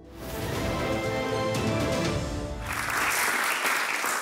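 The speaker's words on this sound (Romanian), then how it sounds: "aceste aplauze au fost pentru dumneavoastră" Studio audience on a Moldovan TV talk show breaks into sustained applause, a dense, steady wash of clapping at full strength throughout, with no speech over it.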